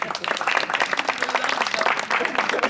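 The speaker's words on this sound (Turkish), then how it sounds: "Ben size bir alkış alayım olur mu?" A crowd at a wedding claps steadily, dense applause filling the space without pause, fairly loud and close.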